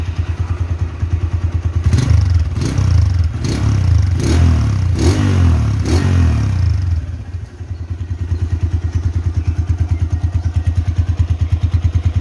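A 2014 Honda Tiger Revo with low mileage idles steadily in a loud, close, even pulsing thump, interrupted midway by a few sharp revs and clattering bursts before settling back to a smooth idle.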